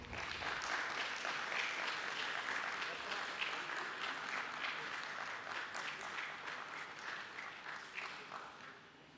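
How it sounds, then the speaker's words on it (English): Steady, dense applause from an audience fills a stock exchange listing ceremony hall for Getalong Enterprise Ltd, holding at an even level throughout with no pauses. "Keep the claps going."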